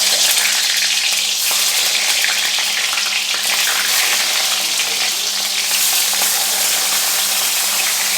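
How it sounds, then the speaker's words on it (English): Eggplant frying in a pan over high heat, a dense, steady sizzle and crackle of hot oil throughout, close and loud with no talking. "now I'm gonna fry it."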